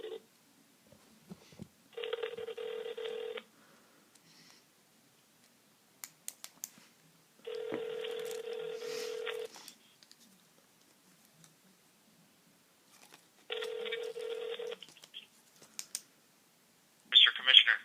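Telephone ringback tones pulse in three long bursts spaced several seconds apart, with faint line noise between them and a brief burst at the end, as a phone call is placed and rings through.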